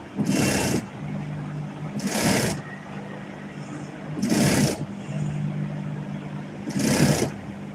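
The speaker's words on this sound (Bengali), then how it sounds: "মাইপা মাইপা আমি এটাকে সেলাই দিয়ে নিই" A sewing machine stitching cloth, its whirring running in four short bursts separated by pauses, fairly close, with no speech over it.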